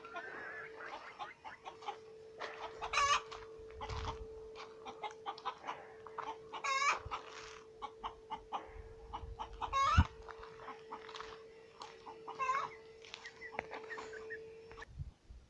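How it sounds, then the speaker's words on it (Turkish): A hen cackles in loud, repeated bursts after laying an egg, over a steady mechanical hum, with scattered clucks between the calls. "Görüyorsunuz yumurtlamış ya nasıl bağırıyor."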